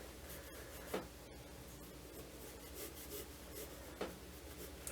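Pencil sketching a bird on paper during a quick timed drawing, a soft continuous scratching and rubbing of graphite with a few sharper taps, close and quiet, no voices.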